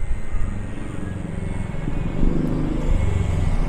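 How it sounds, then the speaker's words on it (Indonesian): A large Korean city bus rumbles past at a busy stop on a Busan street, a steady low engine drone that grows louder midway, with no talking. "Nah, ini bis Korea itu seperti ini, teman-teman."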